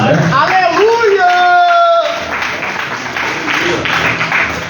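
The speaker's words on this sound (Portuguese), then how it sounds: "dê uma salva de palmas para Jesus, bem forte" Church congregation at a Pentecostal service in Mogi Guaçu claps loudly and steadily, mixed with a raised voice and musical tones at the start, the clapping continuing strongly to the end.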